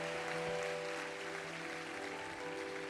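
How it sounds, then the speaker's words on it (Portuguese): A church congregation at a Sunday service claps together in sustained, dense applause that fills the room at steady loudness throughout, with a faint tonal hum lying beneath the clapping. "Dê uma salva de palmas a ele bem forte."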